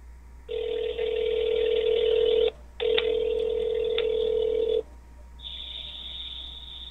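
A phone call rings out over speakerphone, two long steady ringback tones with a short gap between them, then a higher tone beginning, loud and close with no talking.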